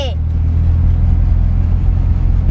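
A car out on a short test drive right after its gearbox selector fork was replaced, with a steady, loud low engine rumble continuing throughout and no talking.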